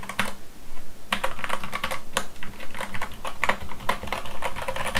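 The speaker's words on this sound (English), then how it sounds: "That's a nice keyboard." Typing on a Keychron K8 mechanical keyboard: bursts of crisp, clicky keystrokes in quick, uneven rhythm, close and clear, with a brief pause after the first second and no talking.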